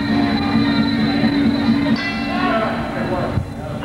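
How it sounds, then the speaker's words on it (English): A ring bell sounds at a Muay Thai bout during IKF regionals, a sustained ringing tone for about two seconds over steady loud crowd noise. "There's the bell."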